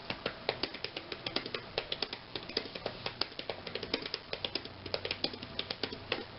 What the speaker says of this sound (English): This keyboard, wow, this keyboard is pretty good. A lot more clicky, a lot more loud than I thought